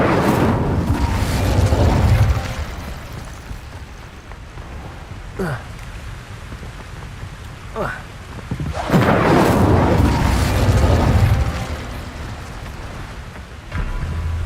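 Fire spell cast in Hogwarts Legacy: two loud whooshing, booming bursts of flame, one at the start and a bigger one near the middle, separated by quieter rumble and brief swishing effects.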